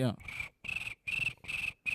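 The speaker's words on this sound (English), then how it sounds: "And crickets." Cricket chirping as a comedic sound effect: four evenly spaced, shrill trilling bursts, each about a third of a second long and separated by silent gaps, close and clear.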